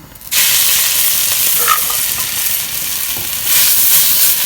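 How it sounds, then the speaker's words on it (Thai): Curry paste hitting hot oil in a pan, a loud sizzle bursting in after a quiet start and hissing steadily with stirring scrapes. "ตั้งน้ำมันนะคะ แล้วก็ใส่พริกแกง"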